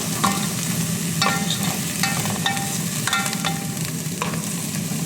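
Chicken with turmeric frying in a pan for ginger chicken, a loud continuous sizzle over a low hum, broken by a few brief scraping stirs, with no voices.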